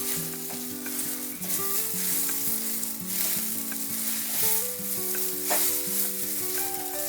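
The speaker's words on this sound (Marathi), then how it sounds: "लसूण, खसखस आणि ही कोथिंबीर स्वच्छ धुवून सुकून घेतलेली आहे आणि अशी भाजून घ्यायची।" Garlic, poppy seeds and coriander roast in a pan, giving a constant close sizzle and crackle while music plays underneath.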